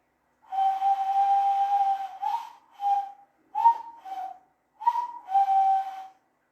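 Hand whistling made by blowing through the hollow gap between two pressed thumbs, heard alone as a long steady note followed by several shorter toots with brief pauses, close and clear.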